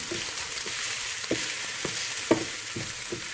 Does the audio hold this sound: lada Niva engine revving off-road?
no